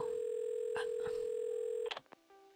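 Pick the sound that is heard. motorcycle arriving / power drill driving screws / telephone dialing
telephone dialing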